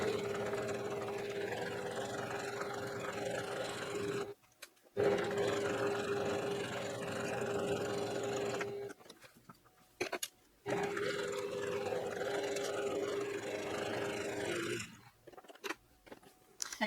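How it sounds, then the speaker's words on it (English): Sewing machine stitching quilt pieces for a scrap candy jar block, a steady close motorized whir running in long bursts with brief pauses between seams. "Then we're going to sew the 1 inch by 8 on the sides"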